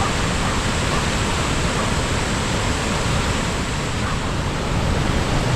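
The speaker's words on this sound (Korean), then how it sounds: "삼부연 폭포는 영지산에서 흘러내린 물줄기가 모여 만든 폭포인데요." Sambuyeon Falls, a three-tiered 20 m waterfall fed by streams off Yeongjisan, pours after heavy rain, a loud, constant, dense roar of crashing water with no breaks.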